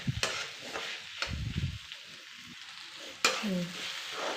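Okra frying in a pan for a tamarind sambar, with soft sizzling and a few distinct stirring scrapes and knocks of a spoon, close but fairly quiet, with no talk.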